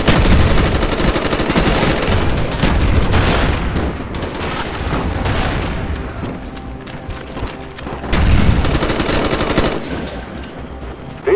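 Dense bursts of automatic gunfire and booming shots rattle almost continuously from Call of Duty: Black Ops multiplayer, loud and close, with rapid machine-gun fusillades swelling and easing across the stretch.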